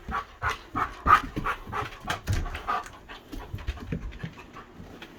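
A large dog pants rapidly and rhythmically indoors at close range, with quick repeated breaths and occasional small shuffling sounds, no voices.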